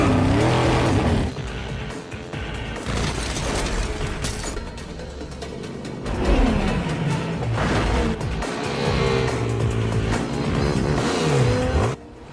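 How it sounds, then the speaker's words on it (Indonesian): Cars racing in a movie chase scene, with loud engines revving and roaring continuously, tires squealing and vehicles passing close by, mixed with dramatic music and no talk. "Brian dan Dominic lalu mengejar Johnny menggunakan mobil masing-masing."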